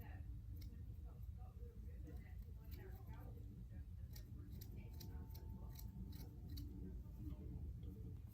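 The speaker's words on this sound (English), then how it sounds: "Might take the thinning shears just to the bottoms, just to make them look a little choppy." Thinning shears snip through the ends of a costume wig in quick, light clicking cuts repeated at close range, with a person talking over much of it.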